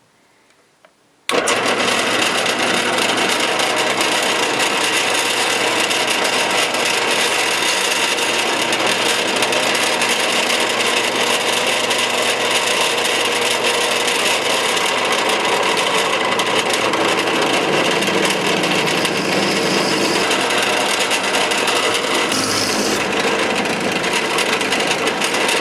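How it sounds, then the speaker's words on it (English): A power drill fitted with a 3/16 bit bores holes for a knife build, a loud steady whirring drone that starts abruptly and runs continuously for the whole stretch with no talk. "I have a 3/16 drill bit that I'm going to be using."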